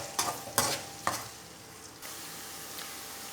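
Onions go into hot oil with a few sharp scrapes and clatters of a stirring spoon in the first second, then a soft, steady sizzle continues faintly and alone.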